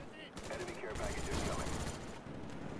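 Rapid automatic gunfire in Black Ops 1 on PC, a rattling burst of closely spaced shots that runs for about two seconds at moderate loudness, with a voice partly overlapping.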